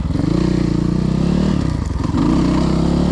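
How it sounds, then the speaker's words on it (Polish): A KTM 300cc dirt bike engine revs loudly and close by, with a steady, buzzing two-stroke drone that surges near the end; no one speaks. "trzeba ten motorek doprowadzić do, do jakiegoś normalnego stanu"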